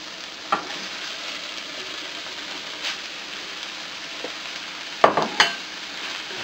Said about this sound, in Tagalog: Stir lang natin to gently para maghalo yung mga ingredients